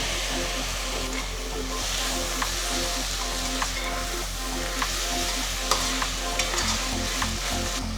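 Tomatoes sizzle and fry steadily in a hot pan for chicken curry, with occasional stirring scrapes over a constant low hum, close and continuous.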